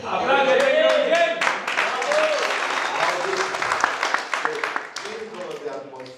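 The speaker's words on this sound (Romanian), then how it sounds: "Aplauze pentru Eugen!" A conference audience claps steadily in a hall, the loud, dense applause sustained throughout and fading slightly at the end, with a voice speaking over it at the start.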